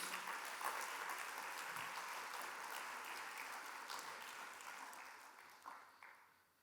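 A church congregation applauds in a broad, even wash of clapping that slowly fades toward the end, with no voices over it.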